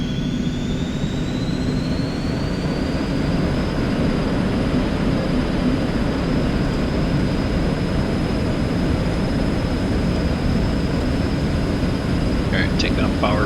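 Eclipse 550 jet engines spool up in the X-Plane 11 flight simulator, a loud steady engine roar with a rising whine that climbs and then holds, continuous and close.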